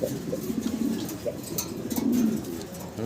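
Mundian pigeons, a big-sized original breed, coo in steady repeated low throaty rolls, close and moderately loud, with no talking over them.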